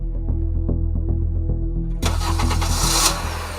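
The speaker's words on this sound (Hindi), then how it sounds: "गाड़ी चलती है" A car engine cranks and catches, with a steady low throbbing hum that bursts into a loud, noisy roar about halfway through and then settles into a running idle.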